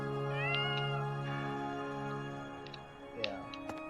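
A cat meows in the video game Fire Emblem: Three Houses, a sustained tonal mewing close up over a steady musical background.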